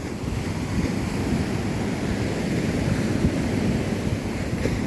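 Sea waves surge onto a beach at evening, a loud, continuous roar of breaking surf mixed with gusty wind buffeting the microphone, with no voices.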